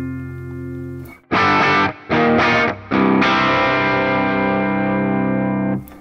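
Crunchy, driven PRS SE Mark Holcomb electric guitar through a highly cranked Vox AC30 amp strikes a few chords with short gaps, then lets a final chord ring out and sustain before cutting off.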